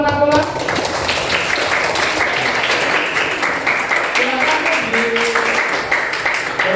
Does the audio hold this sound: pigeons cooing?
no